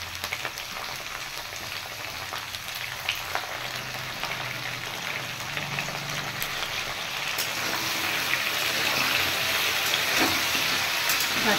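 Cut taro and potato pieces frying in oil in a pan with salt and turmeric, giving a continuous close hiss and sizzle that grows slightly louder over time, with occasional sharp crackles and no voices.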